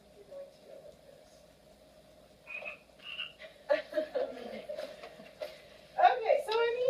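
A toy frog gives several croaking calls amid a busy group setting, with people talking over and between the croaks at moderate volume.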